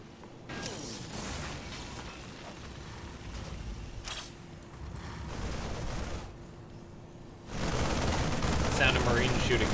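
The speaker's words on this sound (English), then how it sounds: "Sound of Marines shooting rocks." StarCraft 2 Marines firing their rifles at destructible rocks: continuous rattling bursts of automatic gunfire over game ambience, growing louder and denser toward the end.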